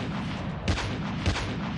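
Two distant sniper rifle shots in a Call of Duty: Mobile match, isolated royale mode, each a brief sharp crack with a low boom, spaced about half a second apart over a steady low background rumble.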